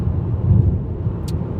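Steady low road rumble from inside a car cruising along a dual carriageway, a constant engine and tyre drone with no talking.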